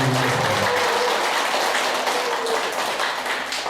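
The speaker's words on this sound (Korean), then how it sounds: "우리 센터장님하고 우리 선생님들께 우선 박수 한번 먼저 드리고" An audience in a Korean lecture hall breaks into steady, dense applause, many hands clapping together at close range, sustained at full loudness throughout with no pause.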